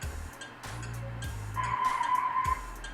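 A car in the Driver's Education '99 driving simulator game brakes to a stop, with a steady tire squeal and engine drone, repeated low engine shifts and faint clicks; no talk.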